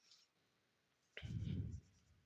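A brief marker or chalk stroke as identification notes are written on a board during a grammar lesson, heard as one short, faint scratch of under a second in a quiet room.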